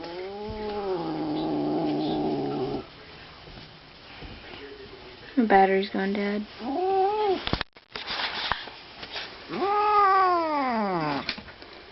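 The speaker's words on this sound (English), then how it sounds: "the cat" A cat meows repeatedly in drawn-out, wavering cries, loud and close, with a person speaking briefly between the calls.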